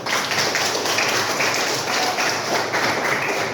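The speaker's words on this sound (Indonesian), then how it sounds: "Tepuk tangan untuk Melani" Classroom applause for a student during a lesson on positive school culture, a steady dense wash of many hands clapping at once, loud and continuous throughout.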